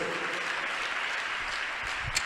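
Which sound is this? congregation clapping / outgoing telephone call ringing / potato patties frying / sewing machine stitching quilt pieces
congregation clapping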